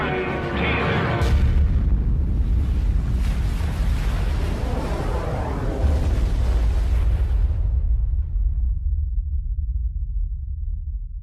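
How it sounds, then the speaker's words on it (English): A ten-megaton hydrogen bomb test explosion: a massive, continuous roaring rumble that stays loud for several seconds, then loses its hiss and sinks into a deep, lingering low boom. "It explodes with a force of 10 million tons of TNT, 600 times more powerful than the bomb that destroyed Hiroshima."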